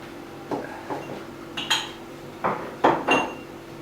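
A utensil strikes and scrapes against a bowl in several short, irregular clinks while dry ingredients for Şam tatlısı, including semolina, sugar and baking soda, are mixed.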